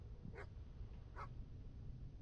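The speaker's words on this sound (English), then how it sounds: "Oh, it's a dog." A dog in a retro-style indie horror video game gives two short, faint whimpering barks about a second apart over a low droning game background.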